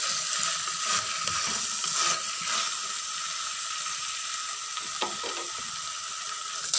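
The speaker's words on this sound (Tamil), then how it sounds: "இப்போ வெண்டைக்காயை நல்லா அந்த வளவளப்பு தன்மை போகிற வரை நல்லாவே நம்ம வதக்கிக்கலாம்." Okra sautéing in a pan for a tamarind curry, giving a continuous close sizzle. Occasional stirring clatters sound through it and there is no speech.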